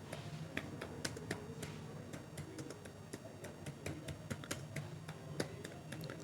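Rapid typing of Python code on a computer keyboard, a steady run of crisp, close key clicks with irregular rhythm and a few louder strokes.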